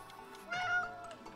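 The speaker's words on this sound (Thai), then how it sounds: "แมวตรงไหน" A single cat meow, rising then falling, fairly faint and close, heard in the video game It Takes Two over a quiet background.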